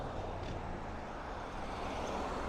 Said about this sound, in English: some of the traffic is really loud in my head